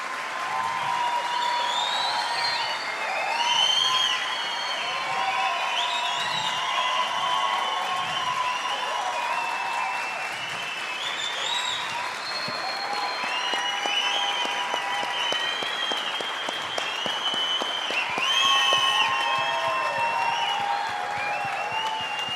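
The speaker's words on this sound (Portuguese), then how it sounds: "pedir de todo o coração uma salva de palmas para o Flávio." A large audience at a talk-show session of an event applauds warmly and steadily, a dense sustained wash of clapping with some cheering that swells near the end and holds for over twenty seconds.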